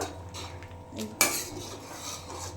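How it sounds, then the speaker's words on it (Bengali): A lid lifted off a cooking pot of vegetable stems, followed by clinking metal as the stems are stirred; one bright clatter stands out, with soft scraping after it over a low steady hum. "এবার ঢাকনাটা আমি খুলে দিচ্ছি, দিয়ে একটু ভালোভাবে নেড়ে চেড়ে নেবো"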